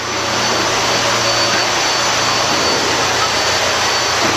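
Machinery in a riverboat's engine room gives off a loud, constant roar and broadband rush, with a steady low hum beneath it and no break or talking.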